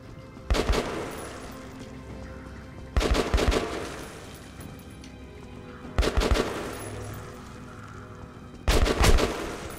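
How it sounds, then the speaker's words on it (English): Gunfire in the video game Metro: Last Light, four short bursts of rapid automatic fire spaced about three seconds apart, loud and close with background game ambience between bursts. "Stop shooting me!"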